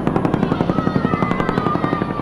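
Military Cobra attack helicopters thud overhead in a close, loud, rapid rotor chop with a whining turbine tone, steady throughout.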